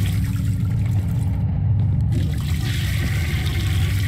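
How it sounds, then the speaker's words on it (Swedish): Toilet flushing in a bathroom of an abandoned hotel, a steady low rush of water, loud and close, with a brief change in the hiss partway through. "Okej, vi spolar väl alla då?"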